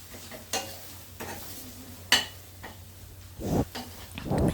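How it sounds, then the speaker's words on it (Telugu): Onions and masala spices frying on low heat in a pan for a bottle gourd curry, with a steady soft sizzle broken by several scraping stirs and clinks of a spatula against the pan, close and fairly quiet. "ఇలా సిమ్లో పెట్టుకొని మసాలాలు మాడిపోకుండా ఆనియన్స్లోనే ఫ్రై అయ్యేంత వరకు చూసుకోవాలి."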